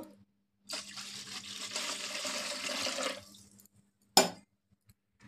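Water poured from a container into a pan for semiya payasam, a steady splashing pour of about two and a half seconds followed by a brief clink, with no talking.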